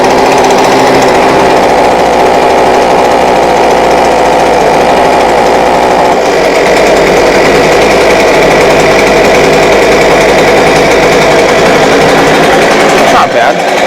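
A Husqvarna 125B leaf blower's small two-stroke engine runs on half choke, a loud, steady, close buzzing drone that holds throughout with only slight wavers in pitch.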